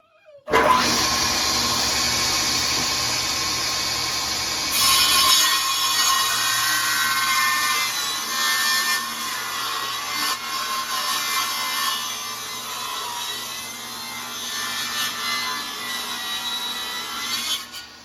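Sawzall cutting through wood for a homemade dog crate, a loud continuous rasping buzz from start to finish with slight surges in intensity, close by and without talk.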